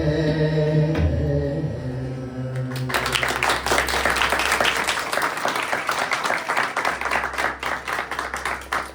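An audience breaks into loud, sustained applause following a sung devotional performance, many hands clapping densely for several seconds after the music fades.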